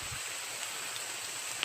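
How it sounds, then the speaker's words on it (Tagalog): Heavy rain falls steadily in an outdoor setting, a constant dense hiss with small drop patters, moderately faint and with no voices. "kahit malakas yung ulan"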